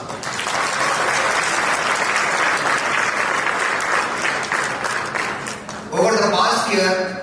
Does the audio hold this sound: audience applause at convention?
yes